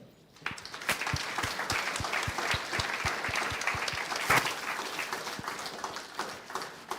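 An audience at a mathematics awards ceremony applauds a grade 12 award recipient, steady dense clapping with a few distinct close claps, filling the room for several seconds before easing slightly.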